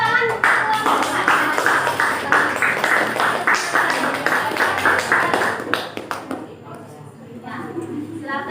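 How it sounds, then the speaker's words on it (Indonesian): Group 4 gets a round of applause from a classroom audience during a teaching practice session, dense rapid clapping for about six seconds that thins out and fades, with some talk mixed in. "tepuk tangan kelompok 4"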